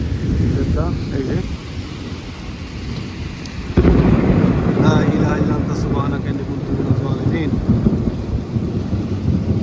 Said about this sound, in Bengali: প্রচুর বৃষ্টি হচ্ছে এয়ারপোর্টের পাশে